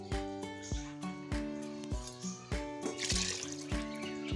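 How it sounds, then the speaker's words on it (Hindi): Water for matar pulao is poured from a glass into a cooking pot, a light trickling splash alongside repeated knocks and clinks of the vessel, fairly quiet and close. "अब ये मैं 2 गिलास और पानी डालूंगी।"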